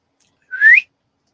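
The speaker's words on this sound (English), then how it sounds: "it's a whistle." A single short rising whistle, clear and close, is given to call a partly deaf dog, alone against silence.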